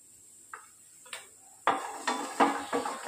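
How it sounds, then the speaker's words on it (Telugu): Masala is dry roasted in a pan without oil, with a few sharp taps at first, then several scraping stirs of a spatula against the hot pan, close and moderately loud. "just dry రోస్టే friends,"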